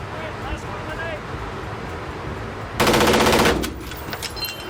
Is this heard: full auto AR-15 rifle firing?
yes